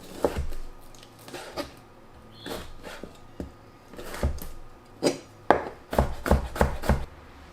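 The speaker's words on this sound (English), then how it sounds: "Cut the sausages into cubes." A knife cuts sausages into cubes on a board, with a series of sharp close chops landing at an uneven pace that speeds into quick clusters toward the end.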